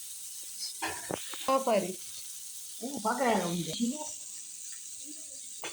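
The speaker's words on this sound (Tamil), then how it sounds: "நல்லா மீனுக்கு மசாலா போட்டு வறுத்துட்டு இருக்கேன்" Masala-coated fish frying in a pan, a steady close sizzle running through the whole stretch while someone talks over it in short phrases.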